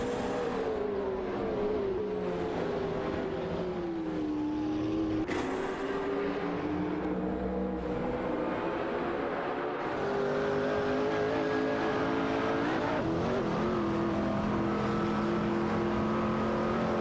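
Race cars roar through a sustained acceleration in a racing video game, several engine tones rising and shifting in pitch together, loud and continuous for the whole stretch with no talk.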